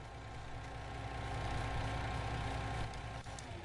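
A vehicle engine idles steadily in the video game No Man's Land, a continuous low rumble that holds at an even, moderate level throughout without voices.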